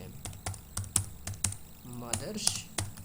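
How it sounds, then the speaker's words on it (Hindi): Typing on a computer keyboard while filling in a résumé in MS Word, with a close, uneven run of sharp key clicks and faint speech in the background. "टैब दबाइएगा, दूसरे में जाएगा यहाँ तक, शिफ्ट के साथ सेमीकोलन अंडरलाइन, यहाँ पे लक्ष्मण YADAV यादव"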